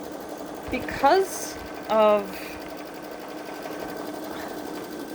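A Babylock Solaris embroidery machine stitching a sheer design, a steady mechanical whirring hum heard up close throughout, with brief talking over it.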